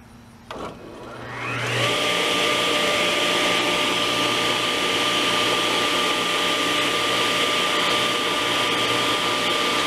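A table saw spins up with a brief clunk and rising whine, then holds a loud, steady, close roaring drone with a constant high tone and broad noise for the rest of the clip, with no voices.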